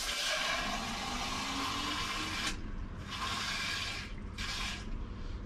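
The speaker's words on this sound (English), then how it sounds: "Fill the tank full of clean water again." Clean water runs from a tap into a film developing tank for 4x5 negatives, a steady rushing pour that breaks off briefly twice toward the end, close by and with no talk.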